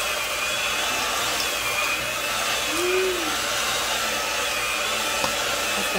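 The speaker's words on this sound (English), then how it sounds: "You think our old mixer can take it?" An old electric mixer churns cookie dough with Rice Krispies, a steady, loud motor whir running throughout with a faint thump or two and no talking.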